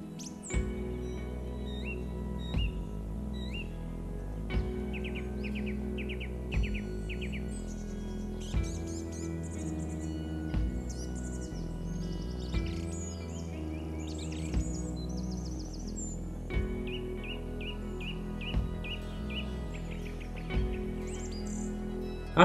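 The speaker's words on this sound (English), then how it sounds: "Then a song thrush started singing from the top of a tree." A song thrush sings alone from a treetop in repeated short, varied phrases, clear and moderately distant, with brief pauses between bursts.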